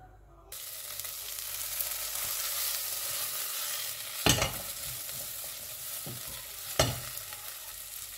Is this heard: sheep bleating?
no